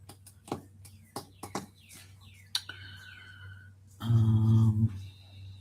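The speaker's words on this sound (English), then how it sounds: "There's a red bird singing out there." Outdoors in pouring rain, a red bird gives short chirps and whistled notes that sound faint and distant against a steady wash of rain, and a person speaks briefly partway through.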